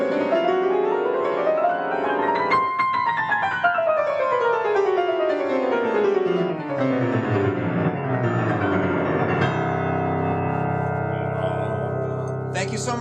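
A piano plays a chromatic scale with both hands together, the lines rising and then falling in steady steps and ringing out loud and sustained with no talking over it.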